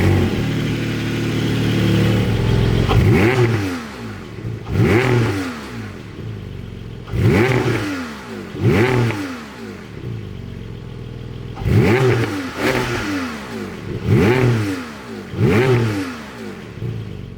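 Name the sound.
Porsche Boxster GTS 4.0-litre engine accelerating with PDK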